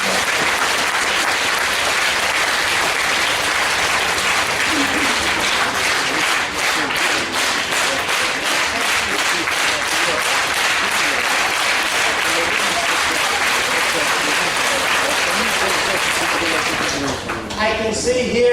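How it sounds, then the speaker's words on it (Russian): A festival audience in Ukraine rises in a standing ovation, with sustained, dense clapping that carries on for most of the stretch before tapering off at the very end. "I give you the standing ovation for everything you do."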